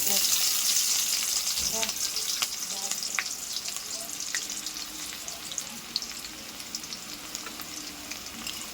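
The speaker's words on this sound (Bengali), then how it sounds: "তার মধ্যেই কোচানো পেঁয়াজটাও দিয়ে দিচ্ছি।" Sliced onion fries in oil with nigella seeds and dried chili, producing a loud, dense hiss and sizzle that softens slightly as it goes, with a few crackles and light stirring clatter.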